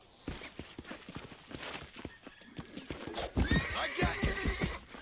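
A horse in the Red Dead video game clopping along with rhythmic hoofbeats, then letting out a loud whinny near the end, with a voice talking over parts of it.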